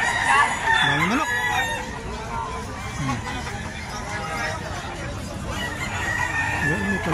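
Chickens cluck and a rooster crows several times, close by at a pet market, with people chattering faintly in the background.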